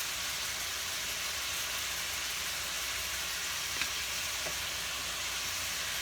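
Crushed red pepper frying with vegetables in a pan, a steady soft hiss and sizzle that runs evenly throughout, with faint small clicks and no talk.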